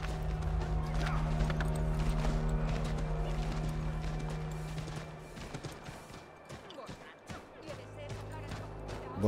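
Horse hooves clip-clop in the 2012 video game Assassin's Creed III, a rhythmic galloping patter under game music and ambience, with someone talking over it.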